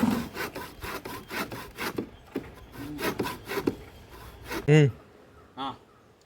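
A hand saw cuts back and forth through a banana-stem pole meant for a Christmas crib, with quick rhythmic close strokes for about four seconds, followed by a couple of short voiced sounds.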